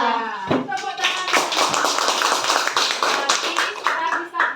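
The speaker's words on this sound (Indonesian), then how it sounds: "Tepuk tangan." Schoolchildren in an elementary coding class clap their hands together, a burst of close, lively clapping that starts after a brief voice and continues with uneven rhythm.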